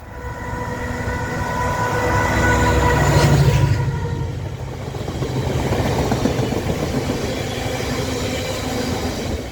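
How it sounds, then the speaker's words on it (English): A train rolls past close by near Willington, with loud rumbling wheels and rail noise peaking partway through, then easing to a steady clatter. "Trains are literally there, as you can see."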